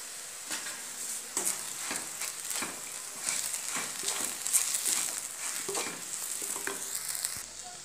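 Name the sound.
spice mixture being stirred while frying in a pan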